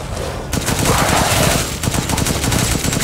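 Gunfire in Resident Evil Village: loud, close bursts of rapid shots, fading briefly and then resuming as a fast, even rattle.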